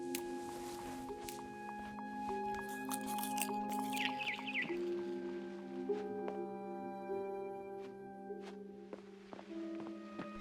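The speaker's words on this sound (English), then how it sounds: "Then I heard chirping outside my window. It was a barn swallow going back to her nest." Barn swallow chirping in the video game What Remains of Edith Finch, quick high tweets heard faintly over soft tonal game music, with a few light patters and no voices.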